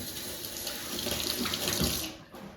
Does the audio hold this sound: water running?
yes